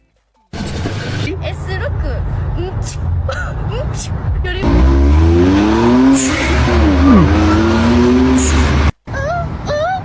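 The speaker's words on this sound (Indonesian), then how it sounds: "rupanya ada suara mobil seperti itu ya" A car engine revs loudly and steadily, rising and falling in pitch, with people talking over it.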